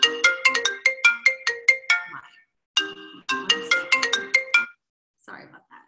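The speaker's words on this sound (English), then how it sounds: "my laptop rings and my phone rings" A phone ringtone chimes out in quick bright melodic notes, loud and close, playing two bursts with a short pause between, followed by a faint trailing sound.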